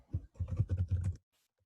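A full name is typed on a computer keyboard: a quick run of soft keystrokes lasting about a second, faint and close, then silence.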